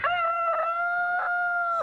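A rooster crows in one long, loud, sustained call lasting nearly two seconds, close by and heard alone without any talk.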